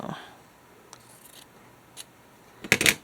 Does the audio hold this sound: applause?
no